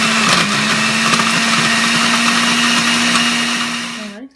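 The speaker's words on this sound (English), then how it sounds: "Go ahead and pop that top on their blender." A blender whirs at high speed, loud and steady, mixing an avocado, cacao and water green smoothie, then winds down and stops at the end.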